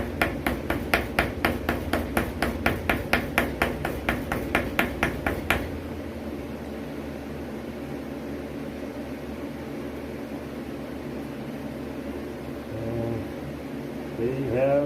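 A small ball-peen hammer taps rapidly and evenly on a thermostat gasket, about twenty crisp close strikes over the first several seconds, then stops, leaving quiet background hum.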